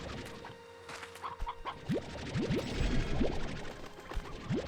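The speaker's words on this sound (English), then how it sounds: "I may as well snag up the rest of those chickens" Chickens cluck in the video game Slime Rancher 2, a scatter of short squawky clucks and chirps over a busy game soundscape, moderately close, with no talk.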